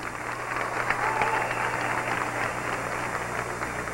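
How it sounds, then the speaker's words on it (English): Pageant audience applauding at the 1995 Miss America preliminaries, a steady wash of clapping from a large crowd heard throughout at moderate distance, fairly faint and even. "You can give her another round of applause"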